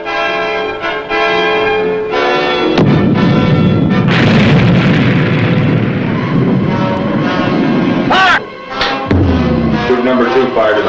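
A WWII U.S. submarine, the USS Tirante, fires a spread of torpedoes at frigates: a sustained, heavy rumbling rush builds and holds for several seconds, then cuts off, with tonal music layered over it.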